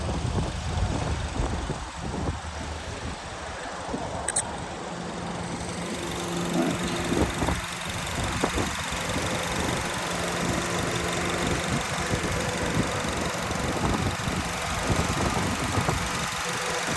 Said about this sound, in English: Engine runs good.